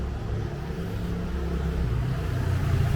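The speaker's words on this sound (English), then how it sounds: "the bus right there coming from San Salvador" A bus arriving from San Salvador, El Salvador, passes close by as a steady, loud low engine rumble that swells slightly toward the end, with no talking.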